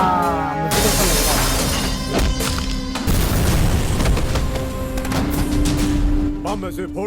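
Explosions and crashing blasts from a Bhojpuri action movie trailer, a loud continuous barrage of booms and smashes with a dramatic music score layered over the whole stretch.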